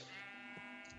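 A single sheep bleats in the video game Minecraft, one short close call with no speech over it.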